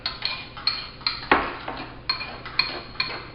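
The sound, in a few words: mixing tartare sauce in a bowl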